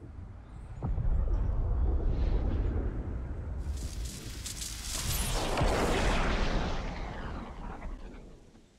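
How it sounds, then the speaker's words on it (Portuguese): A portal explodes in Fortnite with a long, rumbling blast that swells and roars for several seconds, then slowly fades, heard alone. "Fiquem agora com o vídeo da explosão desse portal."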